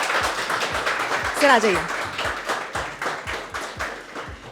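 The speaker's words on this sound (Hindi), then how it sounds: "तालियों की गड़गड़ाहट सुन के आपको ये तो पता चल गया होगा कि कितने ढेर सारे फैंस आपके यहीं मौजूद हैं" An audience claps to welcome a guest at a cricket-themed talk show, with steady, rhythmic applause throughout and someone speaking over it.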